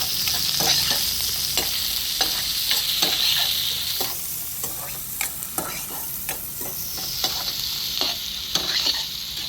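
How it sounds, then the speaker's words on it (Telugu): A medium onion and four finely chopped green chillies frying in a pan toward golden brown, with a loud, steady sizzle and frequent rhythmic scrapes and taps of a stirring spoon, close up with no talking. "ఒక మీడియం సైజు ఆనియన్ను, ఒక 4 పచ్చిమిర్చి సన్నగా తరిగి పెట్టి వేసేసుకుంటున్నాను. ఇప్పుడు ఇవి కూడా గోల్డెన్ బ్రౌన్ కలర్ వరకు ఫ్రై అవ్వాలి."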